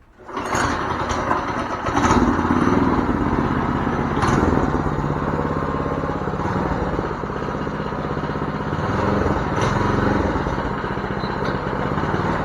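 A homemade wheelie trike built on a budget fires up and runs with a loud, buzzing small-engine drone close by, holding a steady rough rhythm with slight rises in revs as it is ridden.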